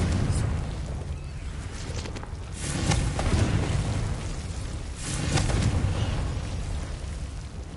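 Confringo fire spell explosions in the video game Hogwarts Legacy: broad, rumbling bursts swell up twice over a steady roar of game noise, each blast loud and full before fading back.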